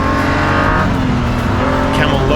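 A BMW race car in Camel livery, running in a 2023 BMW M Performance Parts Race Series race at Aldo Scribante circuit, roars with a loud, steady engine drone throughout, with a commentator talking over it.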